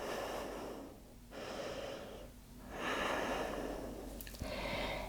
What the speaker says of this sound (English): Can you extend those exhales just a tiny bit? That helps to slow our breathing.